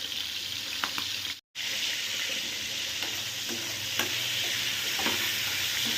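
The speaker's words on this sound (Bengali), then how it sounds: "এর মধ্যে আমি চিংড়ি মাছটা আগে ভেজে নিচ্ছি" Prawns coated in salt and turmeric fry lightly in a pan, a continuous close sizzle with occasional spatters and utensil clicks, broken by a brief drop to silence early on, no talking.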